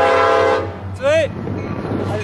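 A train horn sounds in one short blast after a stretch of loud, steady engine rumble, close and strong, with outdoor ambience trailing off after it.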